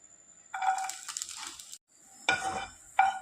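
Vegetables fry in a pan for a vegetable bharta, giving close bursts of crackling sizzle broken by brief pauses and stirring.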